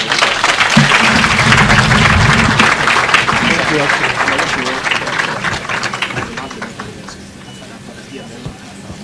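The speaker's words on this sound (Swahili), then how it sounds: "Tumpigie makofi tafadhali ya mwisho" A crowd applauds loudly and steadily, the clapping gradually thinning and fading toward the end, with a voice and crowd murmur mixed in.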